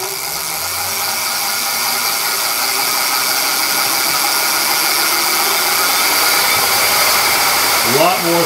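A high-speed electric bike with a sine-wave controller hums as its motor spins up and runs slowly, giving a close, steady whine that swells gently before a rising sweep near the end.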